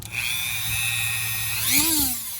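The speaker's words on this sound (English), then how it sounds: "we have a rotary tool. I have a soft brass brush. I'm gonna turn it on." A rotary tool fitted with a soft brass brush whirs at a steady high pitch, then its tone sweeps and wavers near the end as the brush works on an antique jaw harp.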